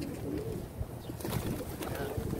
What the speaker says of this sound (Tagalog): Kain natin itong mga kalapati ngayon.